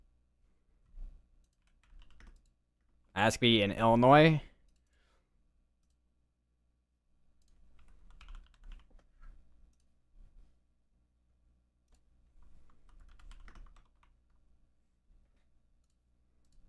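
Soft computer keyboard typing comes in scattered bursts of quiet clicking across a mostly silent room, with a brief spoken phrase partway through.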